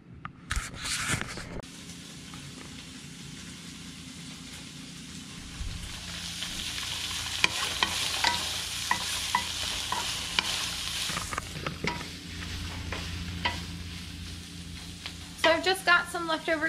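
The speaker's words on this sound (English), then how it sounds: "Leftover tofu and some onions cooking with some sesame oil." Leftover tofu and onions frying in sesame oil for fried rice, a continuous hiss of sizzling with bursts of stirring and utensil scrapes, plus some louder handling noises near the start and end.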